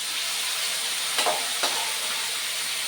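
Bitter gourd frying in coconut oil in a pan, a steady close sizzle and hiss throughout with two brief stirring scrapes.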